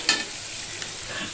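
Onion and garlic fry in oil for chicken liver and gizzard adobo, a short, soft, steady sizzle with a brief stirring scrape at the start.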